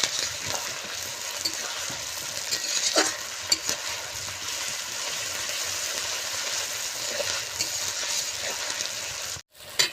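Masala for handi chicken biryani stir-fried in a pot, with a continuous dense sizzle and occasional scraping strokes of a spoon, steady and close, ending in a brief cutoff with no talking.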